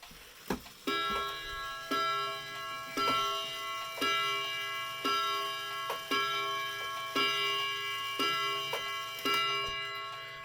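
A wind-up mechanical clock ticks steadily and close, each tick ringing with a bright metallic resonance, alone with no voices.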